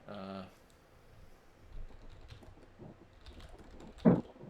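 Someone types on a computer keyboard, with sparse, quiet key clicks spread over several seconds, a brief voice at the start, and one sharper knock near the end.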